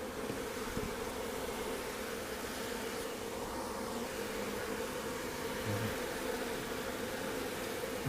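Steady, low buzzing of many honey bees fills the whole stretch, a continuous drone at close range with no voices.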